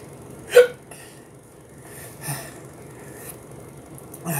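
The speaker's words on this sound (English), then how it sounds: "I can't stop hiccuping." Hiccups from a person who has just eaten a very hot Primotali pepper: one sharp, close hiccup early on, then softer breathy catches spread across a quiet background.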